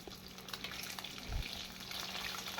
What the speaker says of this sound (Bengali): খুব ভালো করেই আমি মাছগুলোকে এপিট ওপিট লাল করে মাছগুলো ভেজে নেব।